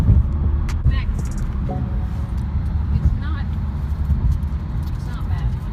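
Steady low road rumble fills the inside of a moving car at night, a continuous throbbing drone with a few faint clicks and brief sounds, while a person talks over it.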